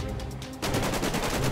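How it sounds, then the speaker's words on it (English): Heavy .50 caliber gunfire in GTA 5 roleplay erupts suddenly after a brief lead-in, then a loud, sustained burst of rapid shots and blasts fills the rest of the moment up close. "I just blew him up with a 50 cal."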